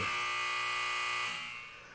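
A loud, sustained electronic buzzer with a steady tonal drone holds for about a second and a quarter, then fades away as the clip ends.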